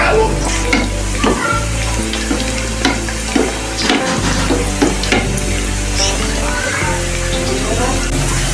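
Tempering spices, including dried red chillies, crackle and sizzle steadily in hot oil for dal, a dense continuous frying hiss with occasional stirring clatter, close and loud throughout.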